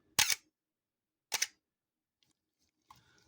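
A film SLR shutter, on a Konica FP-1 or Canon AE-1 Program, fires twice at a slow one-second speed: a sharp mechanical clack, then a second clack about a second later, followed by faint handling noise.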